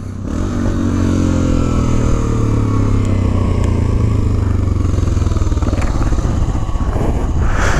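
A BMW GS650 motorcycle rides along with its engine droning loudly and close, the revs rising and falling as the rider shifts gears, with wind rush and some rattling clatter underneath.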